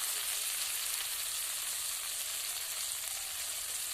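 Fish wrapped in gourd leaves frying in a pan, a steady close sizzle with a bright crackling hiss that holds evenly, alone and without talk.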